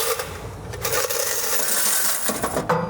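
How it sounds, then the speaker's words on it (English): Quarters pour into a laundromat change machine, a dense metallic clatter and jangle of coins spilling and rattling continuously at close range for a few seconds with no talking. "Let's go fill up our change machine"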